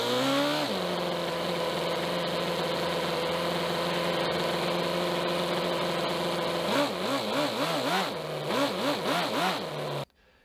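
A 1/10 scale fuel-powered Toyota model engine runs with a steady, high-pitched, buzzy drone, then revs up and down in quick wavering surges before cutting off abruptly.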